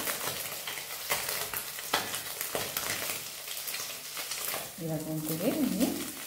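Small mourala fish fry in oil in a pan, a steady close sizzle broken by scraping stirs, with a voice briefly heard near the end.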